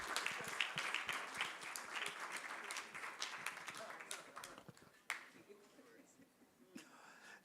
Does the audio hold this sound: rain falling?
no